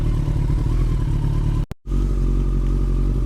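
A Kawasaki ZX14R motorcycle idles with a loud, steady, close engine rumble that cuts out abruptly for a split second midway, then resumes as the clutch engages.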